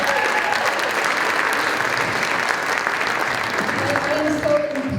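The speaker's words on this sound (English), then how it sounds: "Can we have another round of applause" Sustained applause from a crowd at a winter choir concert, steady and dense throughout, fairly loud and close, with no breaks.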